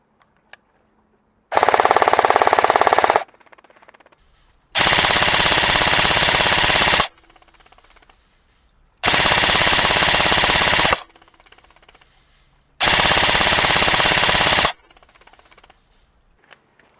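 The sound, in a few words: Novritsch SSR249 airsoft LMG firing bursts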